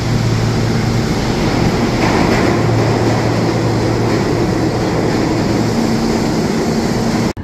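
A New York MTA subway train roars loudly and steadily at Elmhurst station, its rumble continuing without a break before cutting off abruptly at the very end.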